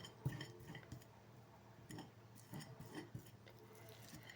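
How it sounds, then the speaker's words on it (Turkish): Two boiled medium potatoes mashed with a fork in a bowl, giving soft squishy presses and light metallic clinks of the fork against the dish, quiet and irregular, with no voice. "Şimdi patatesimi çatal yardımıyla püre haline gelinceye kadar ezeceğim."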